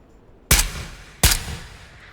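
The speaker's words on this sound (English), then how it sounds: "I'm hearing gunshots still" Two sharp gunshots ring out in the Ghosts of Tabor video game, the first about half a second in and the second roughly three-quarters of a second later, each a loud crack with a lingering tail.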